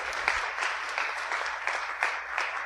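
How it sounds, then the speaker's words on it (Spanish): A church congregation applauds, a loud, continuous crowd clapping that pulses in rhythmic waves of roughly even beats, close and alone without speech. "Era un aplauso al Señor, hermano."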